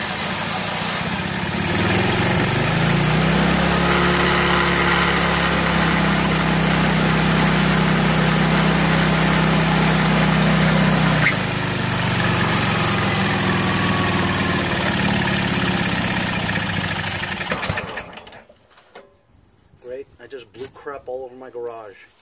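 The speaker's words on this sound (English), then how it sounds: "just plugged in the electric start, see if it works" A Craftsman 5HP 24-inch dual two-stage snow blower with low compression, its engine running loudly and steadily at close range for most of the clip, then cutting out as a voice starts talking.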